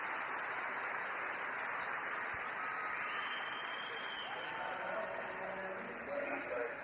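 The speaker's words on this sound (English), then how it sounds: "huge cheer for both of these athletes." A large indoor crowd at the Invictus Games swimming cheers and applauds steadily for the athletes, a dense, sustained roar of clapping while a commentator talks over it.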